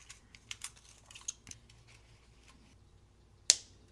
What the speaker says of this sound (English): For this upper and lower arch, I'm cutting 4 inches of the 18 gauge.